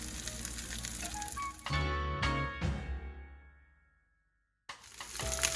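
Plant-based chik'n pieces brown in a hot frying pan for crispy ginger garlic chik'n, giving a loud, dense sizzle that suddenly flares, fades to near silence for about a second, then resumes strongly.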